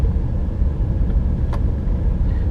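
A car moving through heavy road traffic, with a steady low rumble of engines and tyres close by and a couple of faint higher clicks, no voices.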